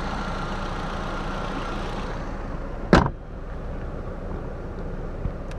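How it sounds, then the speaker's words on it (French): A 2002 Audi A3 8L with a 1.8 turbo four-cylinder idles steadily with a low, even hum, interrupted midway by a single sharp clunk and a brief dip before the idle settles again. "Ça fait le bruit d'un 4 cylindres basique."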